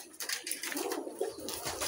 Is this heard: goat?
no